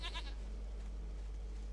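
A goat in the video game The Witcher 3: Wild Hunt lets out a short bleat at the start, followed by a steady low game hum.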